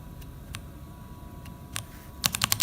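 Keystrokes on a Meca 8s 75% mechanical keyboard with tactile brown switches: a few sparse, crisp taps, then a rapid burst of typing at the end, close and fairly quiet.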